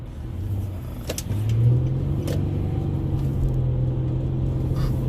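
A truck engine idles and rumbles on the road, a steady low drone that swells briefly as it pulls away, heard close and loud with no talking.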